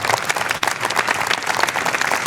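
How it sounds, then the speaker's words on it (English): Audience at an awards ceremony applauding, a dense burst of many hands clapping at once, loud and close, filling the whole short stretch. "Let's give another round of applause"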